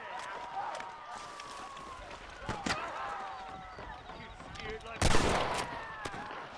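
Enemy gunfire in the Western video game Red Dead Redemption, set in Mexico: a few sharp shots crack out amid game ambience, the loudest burst near the end.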